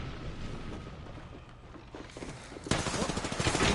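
Sustained weapon fire rattles in Apex Legends, with a steady gunfire bed that erupts into a louder dense burst near the end, amid game background noise.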